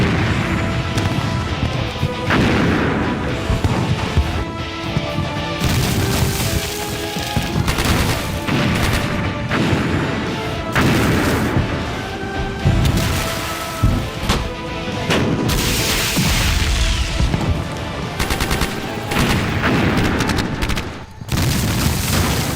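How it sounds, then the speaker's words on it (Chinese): A war drama's artillery bombardment on an enemy riverbank position rumbles loudly without pause, with dense, overlapping booms and blasts throughout. "让炮团一营集中火力轰击蓝军堤防阵地"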